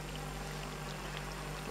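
Water streams and pours through a cave in the dark exploration game Scanner Sombre, a soft steady flow with faint drip-like accents, quiet and unbroken throughout.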